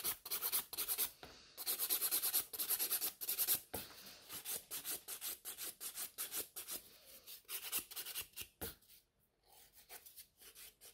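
A natural nail is filed into a tapered shape with quick, close, rhythmic rasping strokes, dense at first, then spacing out and thinning before a short pause near the end.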